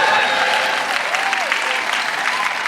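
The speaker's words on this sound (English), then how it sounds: "Can we have a round of applause for everyone who's come?" An audience applauds at an event in an arts centre, sustained, even clapping from a full room, loud and close.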